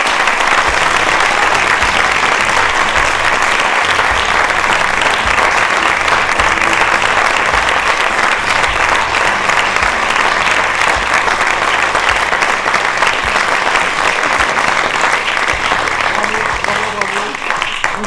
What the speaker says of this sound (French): Et donc je voudrais qu'on l'applaudisse à nouveau, Sandrine Coupé.